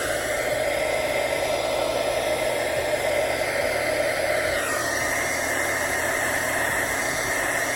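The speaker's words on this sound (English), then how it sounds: "These heat guns are really hot." A heat gun blows hot air in a steady, loud, unbroken rush with a constant hiss, used for heat embossing a hand-lettered candle, running throughout with no talking.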